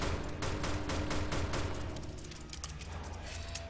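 Rapid gunfire crackles in a Roblox zombie shooter, with a dense string of quick shots for about two seconds that then thins into scattered, quieter pops.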